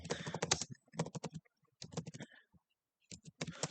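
Fingers type on a computer keyboard in quick clustered bursts of close, crisp key clicks, separated by short pauses, with no talking.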